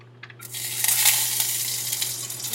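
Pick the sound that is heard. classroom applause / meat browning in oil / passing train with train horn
meat browning in oil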